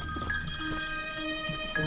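A telephone rings with bright, sustained electronic bell tones that repeat and shift in pitch, close and clear with no talking.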